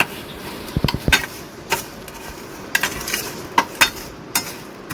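Crushed papad being mixed by hand with chili powder, salt and oil in a bowl, heard as scattered light clinks and crisp rustling taps at an irregular pace, close and fairly quiet.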